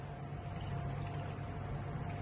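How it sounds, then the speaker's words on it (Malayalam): Water poured into a cooking pot to boil Kerala-style pidi rice dumplings, a continuous soft gushing stream over a low steady hum, fairly faint and with no talking. "അപ്പോൾ ഇത്രയും കൂടി വെള്ളം നമുക്ക് അതിലോട്ട് ഒഴിച്ചു കൊടുക്കാം."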